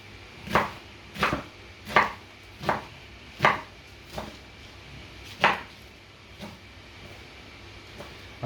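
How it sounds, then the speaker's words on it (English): A knife chops through bunched magnolia petals on a board, nine or so evenly spaced, crisp strokes that slow toward the end, heard close with no talking. "we're just going to chop them into big old bits"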